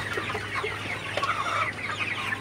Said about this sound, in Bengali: তো আজকে হচ্ছে আমার সোনালী সুপার হাইব্রিড মুরগির বয়স 56 দিন